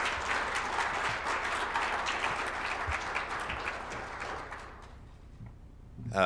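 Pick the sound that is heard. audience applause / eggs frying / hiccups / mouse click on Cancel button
audience applause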